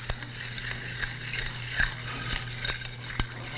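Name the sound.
stirring a tequila cocktail with chocolate bitters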